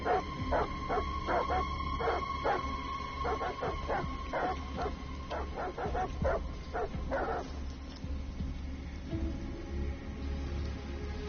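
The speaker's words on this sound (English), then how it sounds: "Goddamn dogs. What the fuck are they barking at?" Dogs bark repeatedly in the video game Detroit: Become Human, rapid yips and barks over a steady rumbling background, fading after a few seconds into ambient noise.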